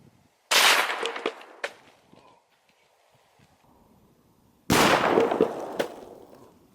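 A .223 rifle fires Speer 50 grain TNT bullets into gel jugs outdoors: two sharp, loud shots several seconds apart, each followed by a brief crack and splatter.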